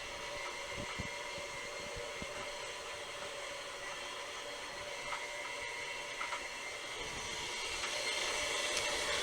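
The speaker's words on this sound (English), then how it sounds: "let it knead for at least 6 to 8 minutes. Don't leave your mixer unattended." A stand mixer kneads sandwich bread dough, giving a steady, continuous motor whir with a faint rhythmic thumping beneath, holding even and close throughout.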